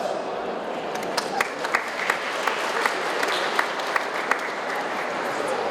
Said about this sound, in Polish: Brawa dla naszych pracodawców.